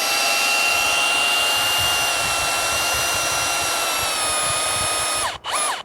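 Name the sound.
Hilti cordless power tool driving screws at maximum torque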